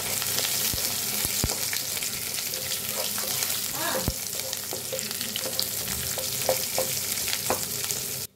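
Chopped onion and whole biryani spices frying in hot oil in a pan, a loud, dense, continuous sizzle with occasional scrapes and taps of a spoon, with no one talking.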